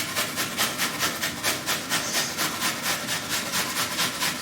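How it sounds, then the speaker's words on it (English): Onion rubbed against a grater for lamb chops, a steady rhythmic rasping of quick even strokes repeating about three times a second, close and loud with no voices. "Now we're gonna grate the onion."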